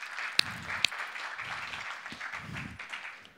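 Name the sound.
audience clapping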